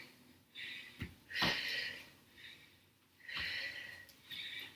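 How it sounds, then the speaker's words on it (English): Heavy breathing during a short total-body workout, several loud, close exhalations and sharp sniffing inhales in an uneven rhythm, with no talking. "You can probably hear me breathing."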